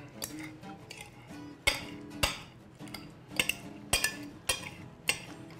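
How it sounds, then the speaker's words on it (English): Fork and knife clink and scrape against a plate while slicing over-easy fried eggs next to crispy beef bacon, a string of sharp, close metallic taps at irregular intervals. "Let's get these eggs and slice them up."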